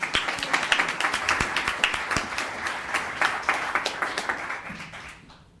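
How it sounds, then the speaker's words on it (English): Applause at a town council meeting: a room of people clapping in a quick, steady patter that gradually thins and fades out near the end. "Another round of applause"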